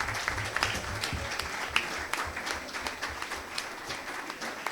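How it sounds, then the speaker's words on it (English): An audience at an NBA Ikeja legal lecture in Nigeria applauds, a dense and steady wash of many hands clapping, moderately loud and sustained throughout with no talk. "let's give Aare Akinboro SAN another round of applause."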